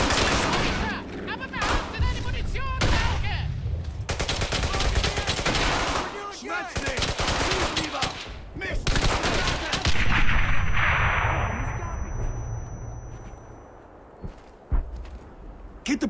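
Gunfire in the World War II video game Brothers in Arms: Hell's Highway, dense bursts of rifle and machine-gun shots rattling on and off, loud and close, then tapering toward a faint distant pop near the end.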